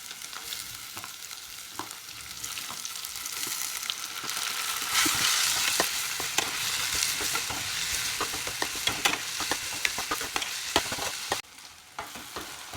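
Onions and green chillies fry in a pan until browning for a tomato gojju, a dense close sizzle with frequent sharp scraping and clinking from stirring, swelling mid-way and easing near the end, no talking.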